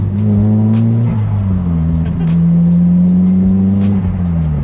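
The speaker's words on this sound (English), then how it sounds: "the flutter in this car will never get old" A Nissan S15 Silvia's engine revs hard and close, with a rising, revving drone and brief fluttering turbo chatter between throttle changes.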